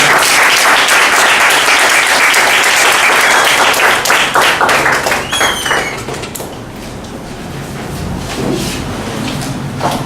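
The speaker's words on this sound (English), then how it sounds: "Can we applaud Ms. Vijayalakshmi and her family for this?" Loud, dense applause from a large audience honouring a woman and her family, steady clapping that thins and fades over the second half.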